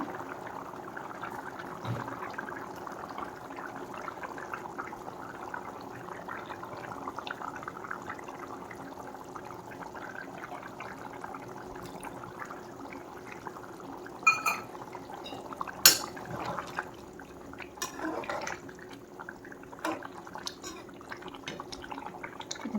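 Quiet bubbling and simmering of chayote and fish curry water in a pot, steady and low, with a few sharper clinks partway through.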